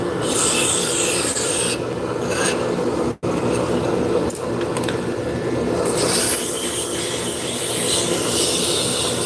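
Sandpaper rubs steadily along a wooden shaft in a workshop, giving a continuous close rasping scrape with one brief stop partway through.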